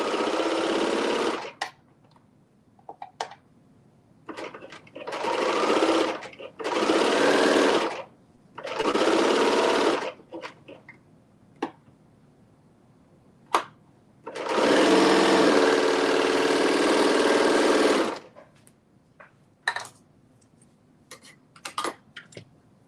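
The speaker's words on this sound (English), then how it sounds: "we are sewing or serging our shoulder seams" A sewing machine or serger stitches shoulder seams on a garment. Several loud, close bursts of rapid motor whirring stop and start, with one long run near the middle, and small clicks and handling noises fill the quiet gaps.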